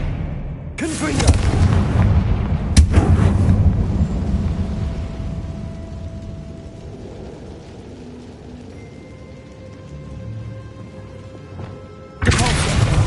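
Fiery Confringo blasting-spell explosions go off in the Hogwarts Legacy video game: a loud boom near the start, another a couple of seconds later and a third near the end, with rumbling game ambience between and no talk.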